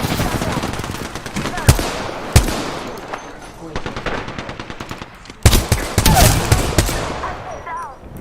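Video game gunfire: rapid machine-gun bursts and sharp single shots crack in irregular clusters, loud and close, mixed with game voice callouts and a player's speech.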